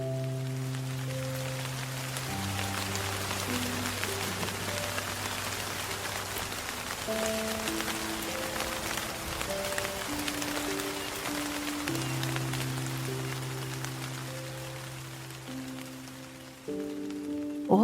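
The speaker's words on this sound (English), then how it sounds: "A heavy rain soon begins to fall" Heavy rain falls steadily in a forest as a soft, even hiss, with gentle sustained music tones playing under it.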